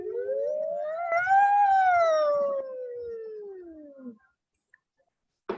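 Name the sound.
voices imitating a siren on ooh, vocal exercise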